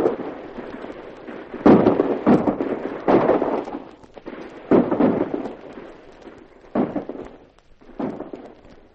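Gunfire aimed up a ridge during a turkey hunt in a cattleman drama, several heavy, booming shots spaced a second or so apart, loud and rolling, with no voices.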